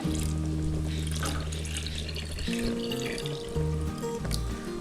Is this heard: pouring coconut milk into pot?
yes